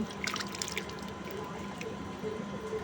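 Mushrooms soak and get cleaned in a vessel of water, giving faint, close splashes and drips over a low steady background hum, with no talk.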